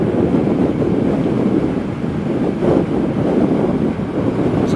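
Steady, loud wind roar buffets the microphone while riding a MacRais Z8X 19 kW electric motorcycle at around 70 mph, a continuous low rushing with no engine note and no voices.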